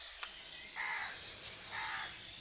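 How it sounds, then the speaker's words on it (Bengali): A crow caws twice in the morning, two clear harsh calls at moderate distance, with a faint sharp click at the start and quiet background otherwise. "সকাল সকাল পাখিদের শব্দ খুব অসাধারণ লাগে"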